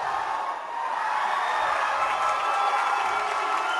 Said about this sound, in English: the Eaton crowd is plenty fired up